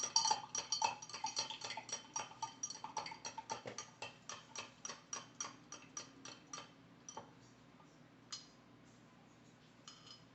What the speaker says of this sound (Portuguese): O Pro vai mexer agora bastante aqui.